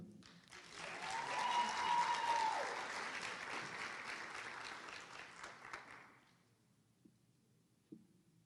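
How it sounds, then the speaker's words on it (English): Audience applause at a university homecoming coronation swells to a steady round of clapping, holds for several seconds, then tapers off and dies away into near silence with a few stray claps. "give our ninth Mr. Albany State University, Mr. Cregory Nance, another round of applause"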